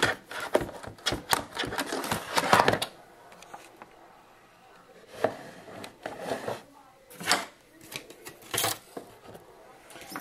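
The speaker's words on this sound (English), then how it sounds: "And I'm using my Cutterbug, and I believe this is called the Snowflakes embossing folder." A Cuttlebug embossing machine with a snowflake embossing folder gives a burst of rapid clicking and ratcheting cranks, then quieter stretches broken by a few isolated clacks, close by.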